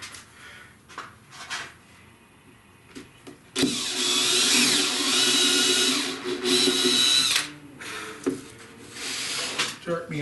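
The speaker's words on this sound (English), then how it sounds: "I don't want to drill through this board." A power drill whirs into a wood board in one sustained burst of about four seconds, with quiet pauses and light handling noises before and after.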